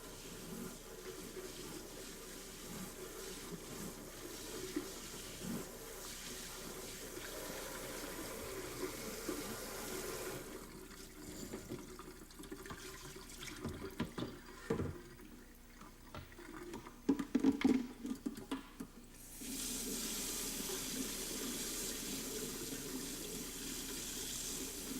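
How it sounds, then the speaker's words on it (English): Hot tap water runs steadily to rinse winemaking equipment, a continuous faucet stream that drops away for a stretch, then returns with a few clatters and splashes before flowing again at even volume. "it's necessary to ensure that it is rinsed with hot water to eliminate all residues."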